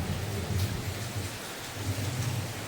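Steady rain pours down with a low rumble underneath suggesting distant thunder, a continuous even wash of noise at moderate level with no voices.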